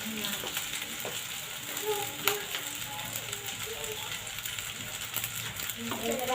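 Freekeh sautéing in a pan, a steady sizzle with repeated stirring scrapes and clicks, close and moderately loud, with faint tonal background sounds beneath.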